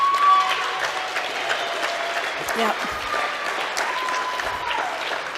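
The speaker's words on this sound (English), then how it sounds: "if you want to clap for anybody, you clap for him" Steady applause from a crowd at a law enforcement memorial ball fills the whole stretch, with a man's brief spoken reply near the middle.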